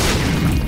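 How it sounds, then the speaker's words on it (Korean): A short, loud, booming burst from an explosion in The Binding of Isaac: Rebirth fills the moment, dense and close. "폭발은 예술이지."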